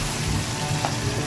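Duck meat being fried down in a pan, a close, continuous sizzle with a low bubbling rumble underneath and faint stirring, brief and steady with no talking.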